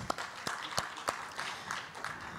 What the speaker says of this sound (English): Round of applause for Signify, please.